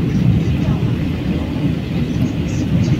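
A train rumbles steadily at a station platform in the One State RP game, a dense low-frequency drone holding near and loud throughout with no clear breaks.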